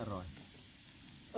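Steady hissing sizzle of pork frying on a hot grill pan, with brief voices at the start and end.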